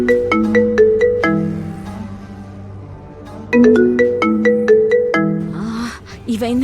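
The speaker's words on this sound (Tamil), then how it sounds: "இவன் என்ன இப்ப கால் பண்றான்?" A mobile phone ringtone for an incoming call plays loud and close, a bright repeating melodic chime pattern that sounds twice, with a voice briefly at the end.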